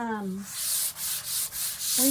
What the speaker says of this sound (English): I'm just sanding off all those little pieces of wood